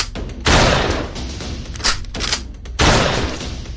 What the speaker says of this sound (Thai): ท่ามกลางป่าใหญ่เสียงปืนลูกซองแฝดดังสนั่นป่า